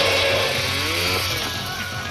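A chainsaw from a 1988 horror film revs loudly and steadily, its motor drone unbroken throughout with a wavering pitch, up close and without talk.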